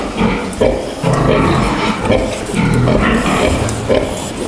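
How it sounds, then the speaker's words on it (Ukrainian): Large young pigs in a barn squeal and grunt loudly in repeated overlapping bursts, with brief pauses between them. "Ну да, такі крупненькі поросята."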